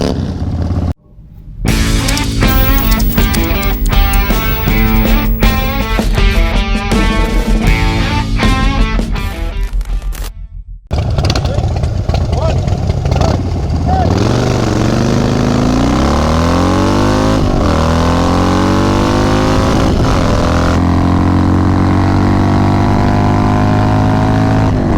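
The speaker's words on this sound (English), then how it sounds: "today we're going to show you the difference between 110 cubic inch and 103 cubic inch. So we're going to have a little drag race up here." Two Harley-Davidson Dyna motorcycles, a 110 cubic inch stage 4 and a 103 cubic inch stage 1, drag racing: loud V-twin revving and hard acceleration through rising gear pulls, a short cut in the middle, then another roaring run building and sweeping past.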